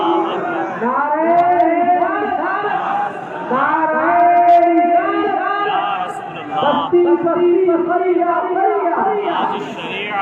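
A large crowd at a religious gathering chants slogans in loud unison, sustained voiced calls rising and falling in long phrases with brief gaps between them.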